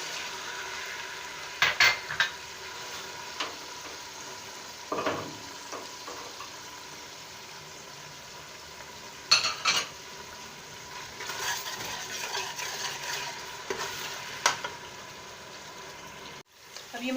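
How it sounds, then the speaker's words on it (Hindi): Powdered spices and a little water frying in a pot for biryani, a soft sizzle under repeated scraping stirs and occasional clinks of a spoon against the pot. "अब ये मसाला भुन गया है"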